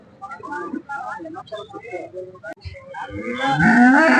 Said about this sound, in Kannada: ಫ್ರೆಂಡ್ಸ್ ನೂಲಿಪೇಟೆಯಲ್ಲಿ ಈ ಥರ ಹಸುಗಳೆಲ್ಲ ಬಂದಿರ್ತದೆ